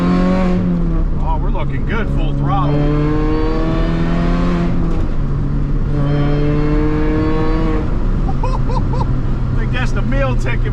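A Mini R53 fitted with a sprint booster accelerates hard at full throttle, its engine note climbing loud and steady through the gears while people talk over it.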